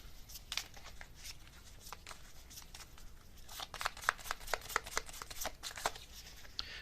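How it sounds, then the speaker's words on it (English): Tarot cards drawn and handled from a deck give soft papery riffles and crisp flicks, a steady run of small close snaps that grows busier and louder toward the end, with no talking. "And let me get a couple cards here."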